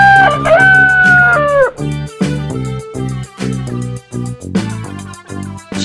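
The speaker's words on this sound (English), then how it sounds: "Chicken." A rooster crows loudly at the start, then a chicken clucks in a quick, rhythmic series of short calls over bright children's music.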